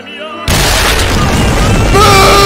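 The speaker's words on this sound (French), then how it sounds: "partez du principe qu'il va juste exploser" A loud explosion from the JoJo's Bizarre Adventure anime breaks in suddenly after near silence, then a sustained roaring blast continues with ringing tones rising near the end.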